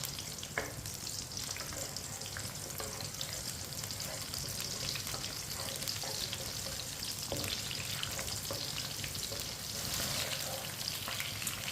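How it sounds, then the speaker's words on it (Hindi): Green chillies fry with onions in a pan for an onion sabzi, giving a steady close sizzle with occasional stirring scrapes throughout. "सब्ज मिर्च डालेंगे। 1 मिनट के लिए फ्राई कर लेंगे।"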